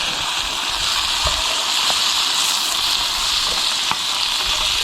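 Bacon being stirred into BBQ beans in a pan, a loud steady sizzle with soft scraping stirs and a few light knocks of the spoon, close up and without talk.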